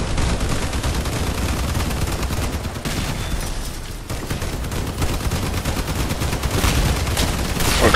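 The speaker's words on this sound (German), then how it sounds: "Der hat gerade voll auf mich geschossen." Gunfire from an enemy armored vehicle in the combat game Crossout: dense, rapid machine-gun bursts rattling continuously and loudly for the whole stretch, with only a brief dip midway and no talk.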